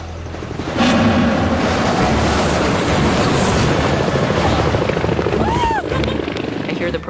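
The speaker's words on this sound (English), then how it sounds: "I hear the propeller noise, I feel the dust, the wind." Loud, continuous helicopter rotor noise with blustering downwash, starting abruptly and holding steady throughout at a MasterChef US team challenge, with voices faintly audible beneath the roar.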